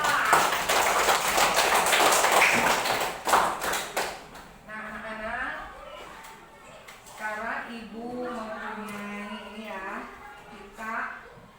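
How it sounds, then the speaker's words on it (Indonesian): A classroom of students clapping for a classmate, a loud burst of scattered applause for about four seconds, followed by a teacher talking. "Tepuk tangan buat Raisa"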